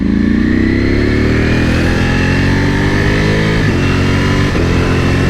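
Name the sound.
2021 Ducati Panigale V4S motorcycle accelerating, changing gears with quick shifter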